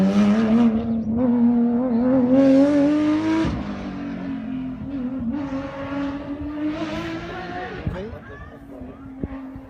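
A Porsche rally car runs a stage of Rally Monterberg, its engine note climbing steadily and shifting through gears, loud and close, then settling into a steady drone with brief clicks.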